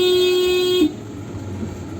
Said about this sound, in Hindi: हॉर्न मारी जा रहा है